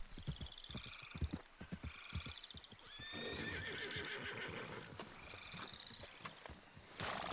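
A horse in a Rockstar western video game whinnies in shrill, descending neighs, mixed with clip-clop hooves and rustling movement, repeating a few times at moderate distance with no talk.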